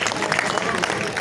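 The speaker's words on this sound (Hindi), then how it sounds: "अपने लिए जोरदार तालियां बजा लो" Applause from a crowd at an Aam Aadmi Party political rally in Kabir Nagar, Delhi, a brief, dense patter of many hands clapping together at steady loudness.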